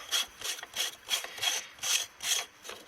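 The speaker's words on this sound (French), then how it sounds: "c'est qu'une bague qui se dévisse. Donc on dévisse ça." Threaded ring being unscrewed by hand on a diesel Lancia Ypsilon during a service, giving about eight rhythmic rasping, scraping strokes, close and fairly loud, with no talk.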